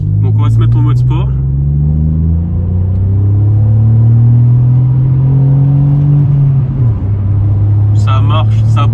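A Hyundai i20 with 150 horsepower accelerates hard in sport mode, its engine note climbing loud and close with a brief dip like a gear change, and speech is heard at the start and end.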